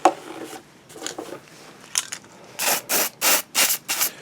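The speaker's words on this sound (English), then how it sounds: "I am going to be spraying the insides of these to prevent light bleed" Tulip fabric paint sprayed inside hollow model car parts, with several short, sharp hissing bursts in a steady rhythm toward the end, each close and loud, after a stretch of quieter rubbing and handling noise.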